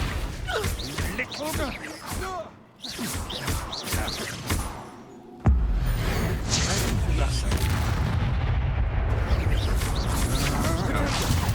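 A fire spell cast in the Hogwarts Legacy video game, a sudden loud whooshing burst that settles into a steady roaring rush, after a stretch of spoken dialogue.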